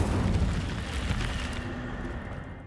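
A burst of the Incendio fire spell from the Hogwarts Legacy video game, a dense, roaring whoosh of flame that holds steady and loud for a few seconds before thinning slightly, with no voices over it.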